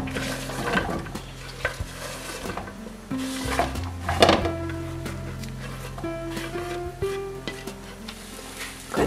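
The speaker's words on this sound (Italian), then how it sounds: "Metto le zucchine in padella." Zucchini sticks with oil, salt and a garlic clove sizzle in a frying pan, tossed and stirred with occasional scrapes and knocks, while steady background music plays throughout.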